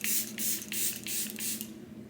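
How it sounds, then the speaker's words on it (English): Charlotte Tilbury Airbrush Flawless Setting Spray misted onto a face in several quick, close hissing bursts, with short pauses between them and no talking. "I'm going to go in with the Charlotte Tilbury Airbrush Flawless Setting Spray. So I'm just going to spray my face down with this"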